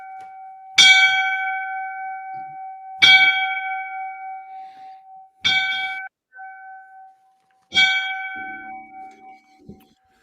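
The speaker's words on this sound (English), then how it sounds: "So line of duty death, you know what we do. We give him the 5 bells." A fire department bell tolls for a line-of-duty death, four clear, ringing strikes spaced a couple of seconds apart, each decaying with a long sustained hum, loud and close with little else around.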